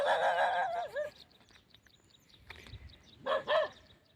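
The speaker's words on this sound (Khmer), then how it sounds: "ថាមកឆ្ងាយភូមិទៅក៏ឲ្យមានសម្លេងឆ្កែព្រុសមកលើមានសម្លេងឆ្កែព្រុស" Dogs bark out in open village fields, a few drawn-out, wavering calls in separate bursts with quiet gaps between, sounding moderately distant and heard without any voices.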